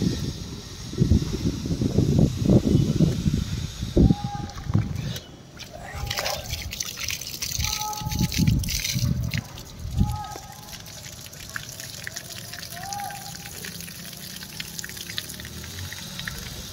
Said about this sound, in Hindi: पानी यहाँ चल रहा है, पानी पियेंगे चल के यहाँ पे